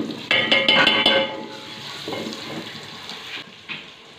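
Tomatoes and green chillies hit hot spiced oil in a pan, giving a loud burst of sizzle with a few sharp clinks at first, then easing into a softer, steady frying hiss.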